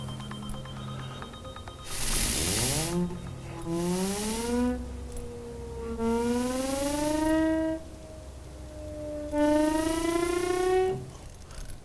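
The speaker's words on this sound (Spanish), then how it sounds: "Esto es lo que se llama la sirena de Cagnard." A Cagniard de la Tour siren with spinning perforated wheels, driven by blown air in a classroom demonstration, wails in several rising and falling sweeps whose pitch climbs as the wheels speed up, loud and close, with no talk over it.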